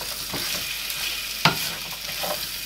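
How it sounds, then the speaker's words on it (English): Vegetables for a vegetarian curry fry in a pan with a soft, steady sizzle, broken by a sharp clack of stirring midway and quieter scraping, heard alone. "You can hear it starting to sizzle."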